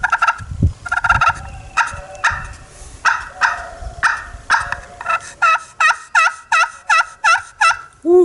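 An aluminum turkey call played close and loud, giving a long run of sharp yelps and clucks in steady rhythm. The notes quicken and rise toward the end, with no talk over them.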